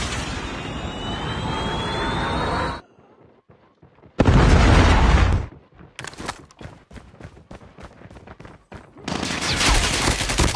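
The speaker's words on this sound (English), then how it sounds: "Predator missile inbound." Game explosions and gunfire from a predator missile strike in Call of Duty Mobile, with loud dense bursts, a brief lull, sharp scattered blasts, then another heavy roaring barrage.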